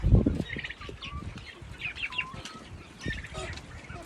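Barred Rock hens and roosters in a coop, close-up soft clucks and chirpy calls with bursts of wing flapping and scratchy movement, fairly near and moderately loud.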